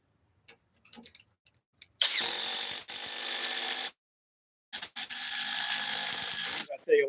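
A Craftsman cordless impact driver runs flat out at top speed in two bursts of about two seconds each, a loud, close, rapid buzzing hammer, with faint clicks and handling noise in between.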